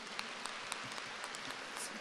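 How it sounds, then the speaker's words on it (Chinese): A crowd at a Buddhist dharma gathering in Kuala Lumpur gives a faint, brief round of clapping, soft and distant with a few louder claps poking through. "鼓掌"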